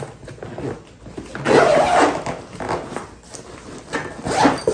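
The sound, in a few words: zipping up a pickleball net carrying bag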